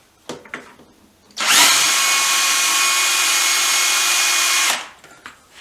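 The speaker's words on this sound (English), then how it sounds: "to drill a straight hole." A power drill boring a straight hole, starting abruptly after a few light taps and running at a steady high-pitched whine for about three seconds before cutting off, close and loud.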